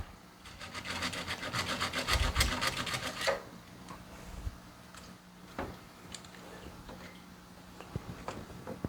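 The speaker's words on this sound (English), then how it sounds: "I need to cut this plastic piece a little shorter." Rough rasping cuts through a hard plastic piece for a few seconds, then stop, followed by scattered light knocks and handling sounds nearby.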